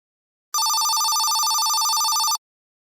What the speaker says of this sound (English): desk phone rang sharply